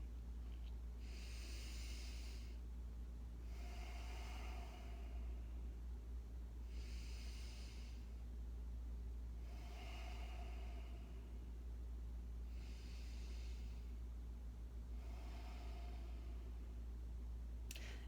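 Slow, steady breathing during a yoga session, with six evenly spaced soft breaths heard alone over a constant low room hum, each drawn-out inhale or exhale rising and fading in a calm rhythm.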